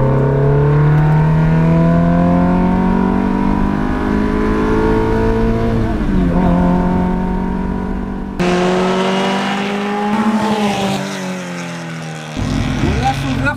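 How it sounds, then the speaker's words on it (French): An Alpine A110 Berlinette prototype engine revving loudly near the microphone, a sustained rising and falling roar with gear changes, heard from close by as the car drives a winding road, with voices talking over it. "je veux l'entendre cette petite berlinette"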